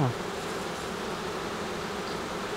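Honey bees buzz at an open Québec beehive, a steady, close, continuous hum filling the whole stretch with no talk.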